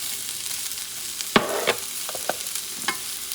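Carrots and celery stir-fry in a hot pan for shrimp pancit bihon, giving a close, steady sizzle broken by a few sharp scrapes and clatters of stirring, with no talking.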